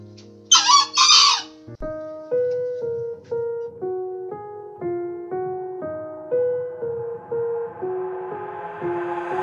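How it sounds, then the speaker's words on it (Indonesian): A junglefowl rooster gives one short, loud crow at the start, then gentle music with steady repeating notes takes over for the rest. "Nah, ini ayam hutannya."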